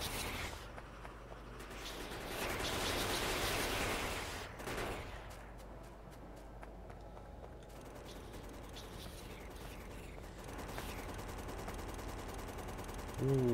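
Gun turrets in Factorio auto-fire bullets in a fairly quiet, steady rattle of rapid shots, swelling into a denser burst partway through before continuing as ongoing background gunfire.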